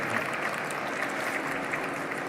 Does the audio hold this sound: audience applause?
yes